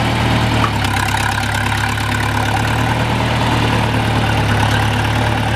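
A tractor engine idles steadily while feeding cattle hay bales, a continuous low rumbling drone with faint vibration that holds an even level throughout and has no voices over it.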